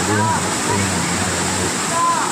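A waterfall at Thirumoorthi Hills gives a steady, broad rushing roar of falling water that fills the whole scene, with someone speaking over it throughout.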